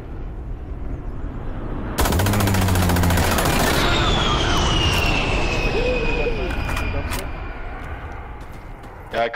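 An aircraft gun run in Insurgency: Sandstorm tears in as a sudden, loud, sustained burst of rapid cannon fire lasting almost two seconds, followed by a jet roaring past and fading into the distance.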